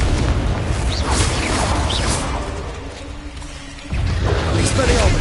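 A Confringo blasting curse explodes in the video game Hogwarts Legacy: loud, dense rumbling bursts with whooshing bits and mechanical clatter, briefly easing before another heavy burst hits.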